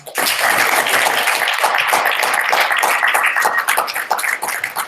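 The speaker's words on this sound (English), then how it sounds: "Can we give Dr. Levy a round of applause?" An audience applauding after Dr. Joon Lee's virtual keynote talk, a dense sustained wash of clapping from many hands that tapers slightly near the end.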